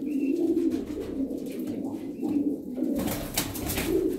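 Yellow Jumbo Lahore pigeons coo in low, throaty, rolling phrases, close by and repeated, with a brief burst of rustling or flapping near the end.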